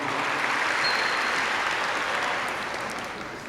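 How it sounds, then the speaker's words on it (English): Audience applause at an 8th grade promotion ceremony: a dense, steady wash of many hands clapping that holds strong, then gradually thins and fades toward the end. "Round of applause for Ms. Bassine"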